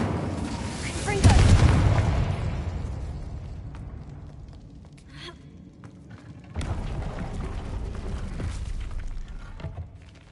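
Confringo blasting spell from a Harry Potter video game: a loud booming explosion bursts out and rumbles away, then a second heavy blast follows after a quieter stretch.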